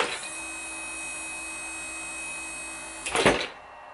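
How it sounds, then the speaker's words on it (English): A strong electric motor switched by Arduino-controlled relays whirs steadily with a high, even whine, then gives a sharp surge and clatter near the end before winding down. "it's a really strong motor"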